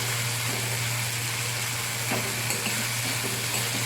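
Boiled mung beans stirred into sizzling masala in a pan: a continuous close frying hiss with soft scraping stirs running throughout.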